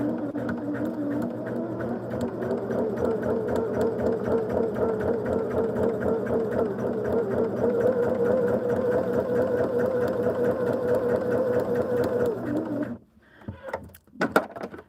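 A sewing machine stitches a quilt block in a steady, continuous mechanical whir for about twelve seconds, then stops abruptly, leaving a few faint clicks and handling noises.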